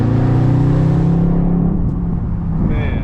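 A 2019 Dodge Charger Scat Pack with a mid muffler delete exhaust in track mode, revving loud and close in a deep rumble, the revs then dropping back toward idle.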